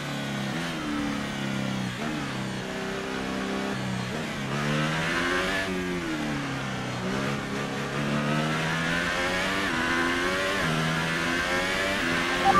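A worn race car engine in a racing video game revs and shifts through gears in repeated rising and falling sweeps, loud and continuous, with no talking.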